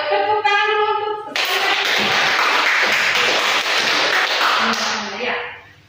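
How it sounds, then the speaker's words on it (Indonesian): Classroom audience breaking into a burst of clapping that lasts about four seconds, loud and dense, following a teacher's voice and fading out at the end. "Ayo, tepuk tangan dulu untuk"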